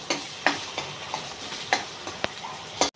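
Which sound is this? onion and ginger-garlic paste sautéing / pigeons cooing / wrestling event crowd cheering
onion and ginger-garlic paste sautéing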